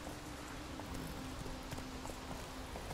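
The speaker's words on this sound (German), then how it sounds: "Oh, ich kann sogar das fremde Pferd reiten?" Steady clip-clop of a horse's hooves while riding in The Witcher 3: Wild Hunt, an even walking rhythm beneath a low ambient drone.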